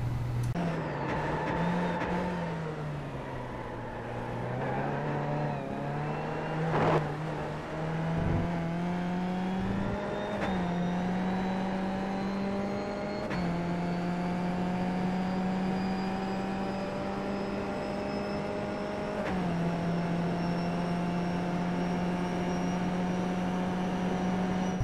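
A Skip Barber race car in the iRacing simulator laps Suzuka, its engine droning loud and continuous near the listener, the pitch dipping and climbing through gear changes and throttle lifts with no talk over it.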